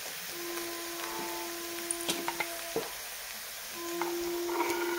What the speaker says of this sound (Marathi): तर आता आपण ह्याच्यामध्ये घालूया टोमॅटो.